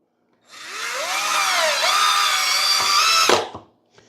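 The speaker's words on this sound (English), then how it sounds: "So I'm going to test drill this first one" A power drill whines as it drives a screw into plywood, its pitch rising and then settling into a steady high-pitched run for about three seconds before it stops abruptly with a clunk of the clutch.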